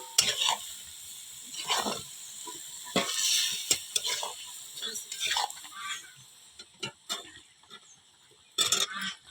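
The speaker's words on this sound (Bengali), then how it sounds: "চিকেন দিয়ে একটু ভালো করে নেড়ে কষিয়ে নেব।" Chicken is stirred and fried in a pan with ground turmeric, chili, mustard and cumin paste, giving a close sizzle broken by repeated scraping stir strokes at an uneven rhythm, with faint voice now and then.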